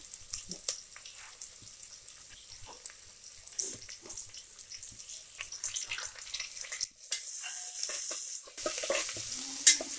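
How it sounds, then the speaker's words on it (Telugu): Curry leaves frying in hot oil for a mutton curry, a steady crackling sizzle filling the clip with occasional stirring clatter, close and fairly loud, no talk. "కరివేపాకు వేసాను బాగా వేగుతాను"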